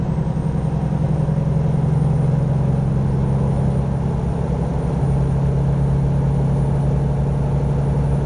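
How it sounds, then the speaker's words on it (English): A Volvo truck engine in American Truck Simulator runs steadily with a loud, continuous low drone and a constant hum that does not change throughout, with no voices over it. "boy, that's how loud the engine is"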